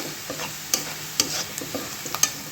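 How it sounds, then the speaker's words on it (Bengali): Onions and chilies frying in oil while a spoon stirs them, with several sharp scraping clacks against the pan over a low continuous sizzle, close up and with no talking. "এরকম পেঁয়াজ মরিচটা একটু লাল লাল করতে হবে"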